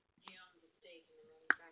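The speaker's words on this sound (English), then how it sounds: "You're clicking your tongue at me." Soft tongue clicks, two sharp close pops about a second apart with faint breathy murmuring between them, quiet and intimate.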